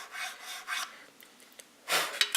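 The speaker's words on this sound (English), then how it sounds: "microfile to get this little groove that we put in here." A small triangular microfile rasps a little groove into a domino, then trims burrs along the pip edges: a few short scraping strokes, close and fairly quiet, with a louder burst of filing near the end.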